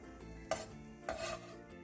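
A knife cuts cucumber into 3 cm pieces on a board, two faint quick chops about half a second apart over a soft background hum, with no speech.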